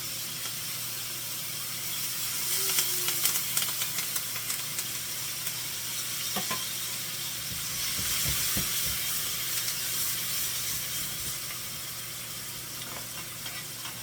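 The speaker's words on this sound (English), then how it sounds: "I'm gonna add my fish with all my season and my mushroom" Seasoned fish and mushrooms fry in a hot pan for a Jamaican curry fish, giving a steady close sizzle and hiss with occasional faint stirring scrapes and no speech.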